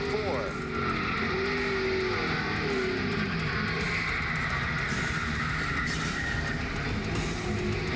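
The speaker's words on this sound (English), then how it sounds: "Todd Bodine with a wild ride off of turn 4." A NASCAR stock car skids off turn 4 during the 2002 Mountain Dew Southern 500, with roaring engines, squealing tires and a loud, dense race-track wash under a broadcast commentator's voice.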